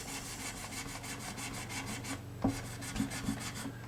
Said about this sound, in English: Just going to give the frets a light polish with a 1000 grit fret eraser.